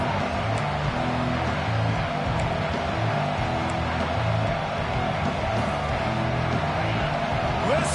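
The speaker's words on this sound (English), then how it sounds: "Listen to this crowd just shaking the girders of this place, trying to help their defense" Stadium crowd at a college football game between FSU and Arkansas roars in a dense, sustained wall of noise, loud and continuous, with a commentator's voice faintly running through it.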